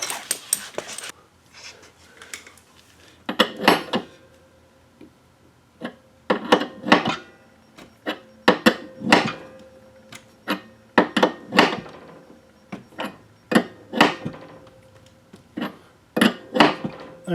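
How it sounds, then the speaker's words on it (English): Metal wrenches knock and ratchet against a brass hose fitting during a garage car-wash plumbing job, giving sharp irregular clanks and scrapes in short bursts with pauses, close and fairly loud, no voices. "let me get another wrench and grab a hold of that brass fitting"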